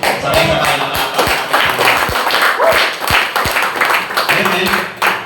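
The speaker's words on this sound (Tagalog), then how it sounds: "Sabay-sabay na palakpak." Church congregation clapping together in unison during a sermon on Jesus's last words, a steady rhythmic crowd applause with sharp hand claps, voices mixed in.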